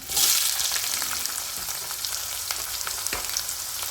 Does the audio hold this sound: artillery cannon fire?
no